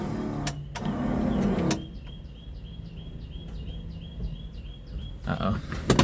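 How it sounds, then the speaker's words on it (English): A racecar's electric fuel pump runs with a thin, high, steady whine and faint rhythmic ticking, set between louder, rougher bursts of noise at the start and end. "Fuel pump."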